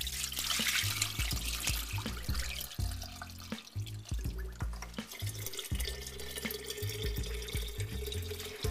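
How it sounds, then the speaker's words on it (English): Quinoa and buckwheat being swished and rinsed in water, with soft splashing, dripping and trickling sounds close by, fairly quiet and irregular. "You want to soak and rinse it a few times, optimally until the water is clear."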